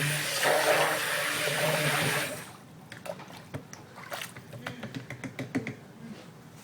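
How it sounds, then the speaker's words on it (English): Water runs over something being rinsed off, a steady close rush for about two seconds that then stops, followed by scattered small clicks and knocks. "I'm going to rinse that off"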